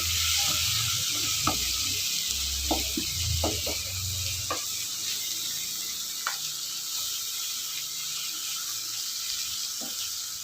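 Onions sauté in a pan with salt and turmeric, a steady soft sizzle with scattered sharp clicks and scrapes of stirring in the first half before the frying settles into an even hiss.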